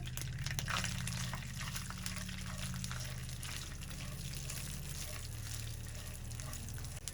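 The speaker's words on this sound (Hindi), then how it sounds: "1 मिनट तक फ्राई करते हैं" Long strips of sliced almonds sizzle in a pan of hot fat, a steady, quiet frying hiss with soft bubbling that runs unbroken for several seconds, with no talk over it.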